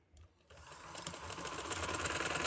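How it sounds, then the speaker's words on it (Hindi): A sewing machine stitches the sleeve of a winter suit, starting after a short pause and running as a rapid, steady needle clatter that grows gradually louder, close up with no talking. "ये मैं सिलाई लगा दी, जो कट लगा के तरपाई की थी, मशीन से ही करना सारा काम"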